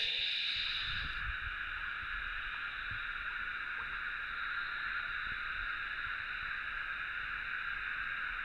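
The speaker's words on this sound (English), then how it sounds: "The sound of cicadas is something that always reminds me of summer in Australia." Cicadas droning in the Victorian High Country of Australia, a steady loud high-pitched buzzing chorus that persists unbroken, with faint low thumps early on and no talk.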